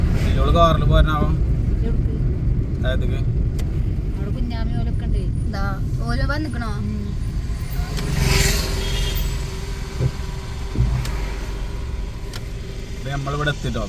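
Steady engine and road rumble from inside a car on the move carrying a family with a baby, a low continuous drone throughout with people talking over it.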